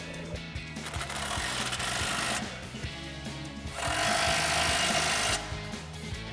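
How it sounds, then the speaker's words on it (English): An impact wrench with an 18mm socket tightens bolts on a Body Armor 4x4 Ambush XT front bumper for a 2010-2018 RAM 2500, firing in two sustained rattling bursts with a short pause between them. "we'll use our 18mm socket on our impact and an 18mm wrench to tighten these down"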